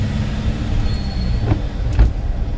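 A manual-transmission car on a driving test route accelerates gently under a 60 km/h limit, giving a loud, steady low engine rumble with road noise and a couple of faint mechanical clicks.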